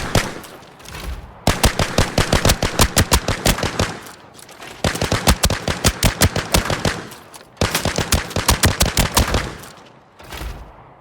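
A new gun in the shooter Arena Breakout Infinite fires in three long, loud full-auto bursts of rapid, evenly spaced shots, separated by short pauses, with a brief final burst at the end.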